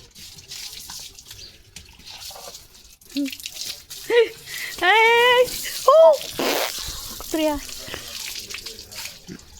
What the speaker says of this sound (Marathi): चला आता मी नळ बंद करीत असते